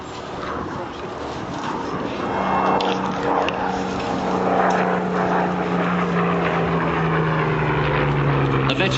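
Hawker Hurricane Mk II Second World War fighter flying past at an airshow, its propeller engine droning steadily and swelling louder midway as it nears, with a commentator talking over it throughout.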